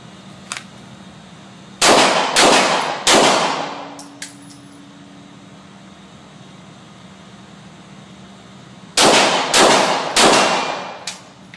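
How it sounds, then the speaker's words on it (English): Gunshots striking steel targets at an outdoor shooting range, heard as two tight bursts of three sharp, loud cracks with ringing metallic clangs, separated by several seconds of quiet background. "When your target refaces, fire 2 more to the body, 1 to the head, this time in 4 seconds"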